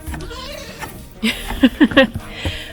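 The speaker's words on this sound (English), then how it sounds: "goats are attacking the camera" Goats crowding up close to the camera bleat in a few loud, short cries near the end, over some rustling and low background noise.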